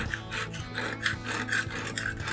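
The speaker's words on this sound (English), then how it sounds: "We're just gonna scrape as much of this off as we can." Steady rasping scrape of a tool working old gasket material off a Big Green Egg ceramic grill, repeated short strokes in a close, even rhythm with no talking.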